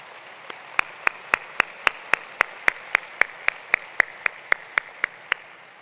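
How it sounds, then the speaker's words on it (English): Applause at the North Carolina A&T State University 2019 winter commencement ceremony comes through as about twenty sharp, evenly spaced hand claps in a steady, regular rhythm, fairly close and with no talking. "Now let's give them all a round of applause as they stand and take a bow."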